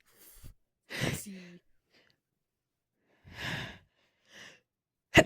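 A few short breathy bursts separated by silence, one sharp sneeze among them, with a faint voice and a brief click at the end.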